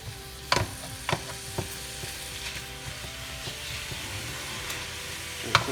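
Ground beef sizzles and fries in a big pot while being pushed down with a utensil: a steady crackling hiss broken by several sharp knocks and scrapes, close up and with no talking.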